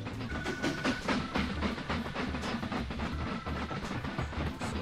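A train in the railway-building game Mashinky rumbles past underneath, a steady rolling clatter with rhythmic wheel clicks and a brief faint whistle-like tone, continuous and moderately loud.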